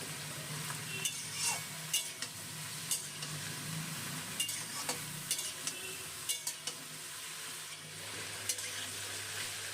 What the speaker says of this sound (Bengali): গ্যাসটা এই সময় হাই ফ্লেমে রেখে সবজিগুলো ভেজে নেবো